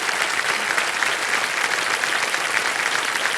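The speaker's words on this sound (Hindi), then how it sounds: "तालियों के साथ एक बार फिर उनका स्वागत किया." Steady, dense studio-audience applause on a television quiz show, sustained and evenly loud throughout with no talking over it.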